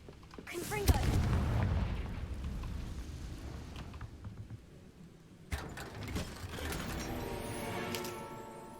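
A Confringo fire spell in Hogwarts Legacy goes off as a deep booming blast that rumbles and fades over several seconds, followed by a second, lighter burst with crackling game effects.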